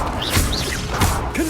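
A Confringo spell blast in the video game Hogwarts Legacy: a short burst of crashing impacts with a swishing whoosh, mixed with game effects and faint voice-like tones.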